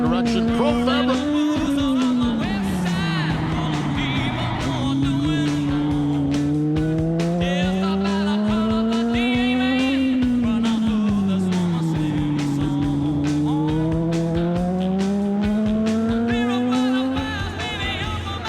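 Race cars spin out at a speedway on a misty, damp night, tires squealing while engines rise and fall in long wavering revs, with a voice talking over the action.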